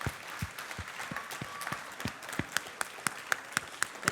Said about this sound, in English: we definitely need a standing applause from everyone